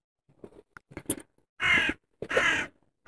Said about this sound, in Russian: Ворона пролетела.